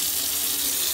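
Water from a kitchen tap runs in a steady, loud, hissing stream throughout, close to the microphone with no other sounds.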